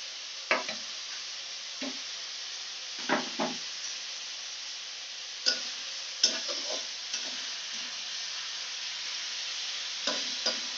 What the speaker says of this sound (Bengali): বাঁধাকপি থেকে একটু জল বেরিয়ে আসবে, যতক্ষণ জল বেরিয়ে ভাজা হোক।